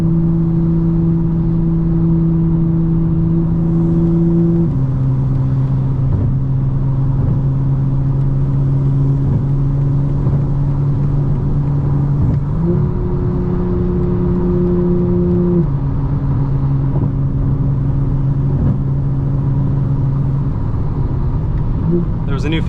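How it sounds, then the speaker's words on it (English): A 2025 BMW M4 Competition engine drones steadily from inside the cabin, its pitch stepping down and up through several gear shifts, with a loud continuous rumble throughout and talk over it. "The shifts just sound insane though. They sound incredible."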